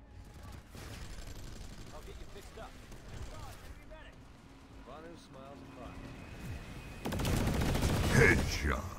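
Planetside 2 gunfire, with bursts of automatic weapon fire and sustained rattling shots that build louder toward the end, mixed with game ambience and players talking over voice chat.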